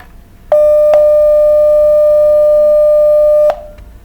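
A steady 600 Hz test tone sounds loud and pure for about three seconds, starting and stopping abruptly with small clicks, over a quiet background.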